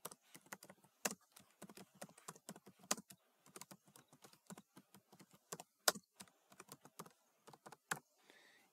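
Rapid bursts of typing on a computer keyboard, close and clear with uneven rhythm and short pauses, entering a school name into Photoshop text; no voices.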